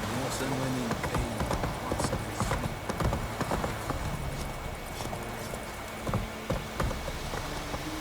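Horse hooves galloping in The Witcher 3 game beat a rapid, steady clip-clop under game ambience, with a voice speaking over part of the ride.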